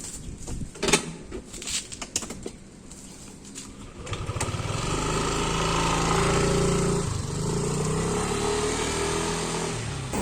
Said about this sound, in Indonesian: sekarang saya mau coba naik motor nih